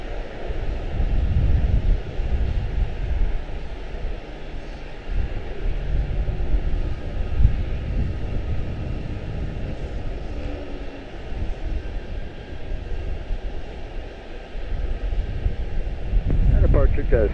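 An airliner rolls down the runway on departure at Charlotte-Douglas International Airport, a steady low engine rumble with wind buffeting the microphone, continuing at moderate distance throughout.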